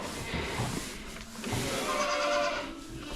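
Boer goats and kids bleat in a hay-bedded kidding barn, with several close calls, some drawn out and wavering, over rustling bedding and shuffling movement.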